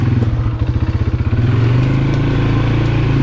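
A nearby ATV engine chugs in rapid rhythmic pulses as the machine picks its way along an overgrown old logging trail, then settles into a loud, steady drone.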